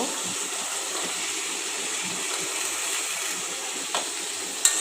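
Flat beans and potatoes land in cooked-down spice paste, which sizzles in a steady, moderately quiet hiss. A couple of brief knocks follow near the end, and no one speaks.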